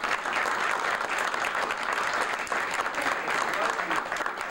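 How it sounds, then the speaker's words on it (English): Audience at a magic show breaking into applause for volunteers, a loud continuous burst of many hands clapping from start to finish. "Give them a round of applause, ladies and gentlemen"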